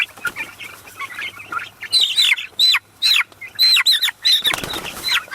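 Cornish cross and slow-growing white broiler chicks peep in a quick series of shrill chirps, close and fairly loud, rising in short bursts over rustling and faint wing flutters.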